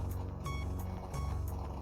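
Alarm clock buzzing in a gothic audio drama, a regular repeating electronic beep-buzz pulsing about three times over two seconds, steady and fairly loud over a low hum.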